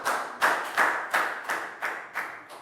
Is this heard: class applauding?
yes